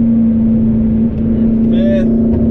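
A modded McLaren's engine drones with a steady, loud, even tone as the car pulls under part throttle, holding close and constant with a slight dip midway.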